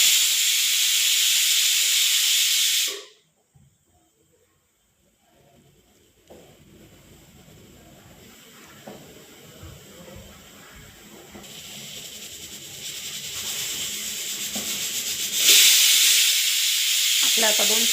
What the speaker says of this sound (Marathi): आपल्या कुकरच्या 2 शिट्ट्या झाल्या आहे